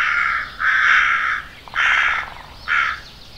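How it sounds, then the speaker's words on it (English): Crows or similar birds cawing, four long, harsh, loud calls spaced over a few seconds, close by, with no talking. "Those are the calling birds."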